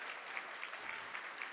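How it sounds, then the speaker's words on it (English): Applause from a crowd at an economic development talks event, steady clapping at moderate volume for a moment, heard from within the room. "Please give them a round of applause, along with Aaron as well."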